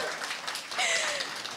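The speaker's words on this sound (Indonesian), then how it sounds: "Kita berikan tepuk tangan sekali lagi" Brief burst of audience applause at an Indonesian event, moderately loud clapping with a rising whistle-like tone partway through.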